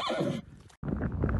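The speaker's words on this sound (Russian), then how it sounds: "Лошадь у них здесь купается" A horse in Dagestan lets out a loud, close whinny, followed after a brief gap by snorting and more neighing sounds, with no speech.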